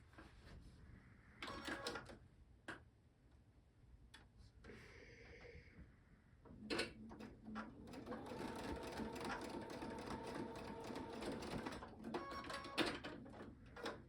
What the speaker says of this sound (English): I'm ready to go to my sewing machine and sew that seam